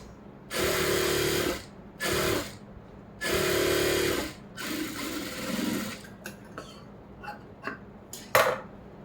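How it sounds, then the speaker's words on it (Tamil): A sewing machine stitches a lining seam on a blouse in close, loud bursts of rapid whirring, several runs of one to two seconds separated by pauses, followed by softer handling clicks and shorter stitches. "இந்த ஒரிஜினல் பீஸ் மேலே வச்சு இப்படி ஒரு 1/4 இன்ச்சுக்கு ஒரு தையல் போடணும்"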